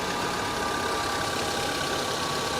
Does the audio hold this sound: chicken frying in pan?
no